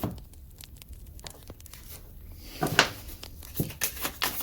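Message cards being shuffled and pulled, soft papery rustles and flicks that start quiet and grow into a cluster of crisp card snaps toward the end, close and alone.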